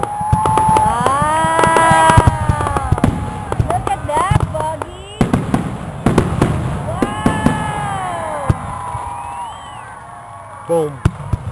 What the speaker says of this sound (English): Boom, boom, boom. Boom, boom, boom. Boom. Very pretty, Buggy.